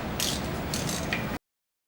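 A ratchet clicks in a few quick bursts while sprocket bolts are snugged up on a 2011-14 Suzuki GSXR 600 motorcycle, close and brief before cutting to silence.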